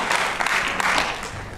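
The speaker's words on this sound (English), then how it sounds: "Applause." An audience at a community bike-safety meeting bursts into steady applause, many hands clapping together in a dense wash that holds for about a second and a half with no voices over it.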